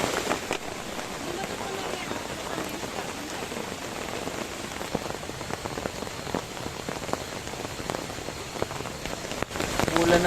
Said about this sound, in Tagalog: Ulan ng malakas